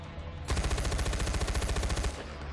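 Rapid automatic gunfire in Far Cry 4, a loud, close burst of evenly spaced shots lasting about a second and a half, alone without talk.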